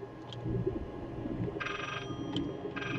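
Telephone bell ringing inside the horror video game Layers of Fear, with repeated bursts of rings over a low, droning ambient background.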